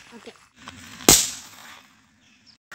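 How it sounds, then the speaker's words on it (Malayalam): A single sharp homemade matchstick firecracker bang bursts out mid-clip, loud and close, trailing into a brief hiss, with faint background voices before it. "ഇതിൻ്റെ സെൻറ്ററിൽ അടിച്ച് കഴിഞ്ഞാൽ നമ്മുടെ പടക്കം ശരിയായിട്ടോ"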